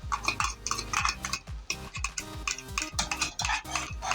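A utensil repeatedly scrapes and knocks in a pan while tomato, masala and egg are stirred together for anda ghotala, steady close rhythmic clinks about twice a second with no talking.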